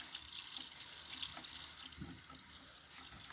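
Tap water running steadily into a sink, rinsing plaster off a shoe print cast, a continuous close hiss and splash with no talking.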